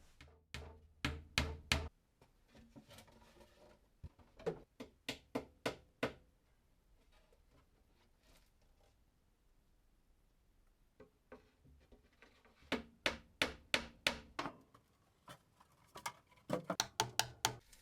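Nails are hammered into cupboard shelves in quick bursts of sharp, close knocks, two clusters at the start, a quiet gap, then further rapid rounds of blows near the end.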